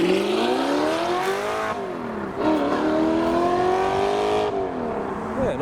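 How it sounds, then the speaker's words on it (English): An Audi R8 with a V8 engine pulls away from a car show, its engine note climbing and dipping through gear changes, loud and close, a continuous throaty roar. "nice to hear a V8 R8 rather than the V10s"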